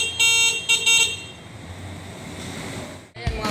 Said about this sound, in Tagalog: yung busina niya, mga ka-riders, parang stock ng busina po ng isang motorsiklo na rin.